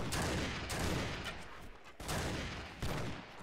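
Gunners fire muskets in a Mount & Blade: Warband battle with the Gekokujo mod, dense overlapping volleys of loud cracks and booms rolling continuously, with heavier blasts at intervals.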